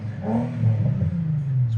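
A Nissan G35 sedan engine fires up and revs once, a close, loud mid-pitched growl that rises and settles back to a rough idle.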